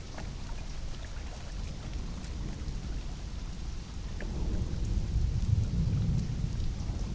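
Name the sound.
rain and thunder in video game Conan Exiles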